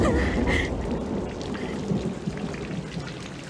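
Heavy rain pours beside a pool in the horror game Corpse Party, a dense rushing downpour with a low thunder rumble, loud at the start and easing slightly, with no voices.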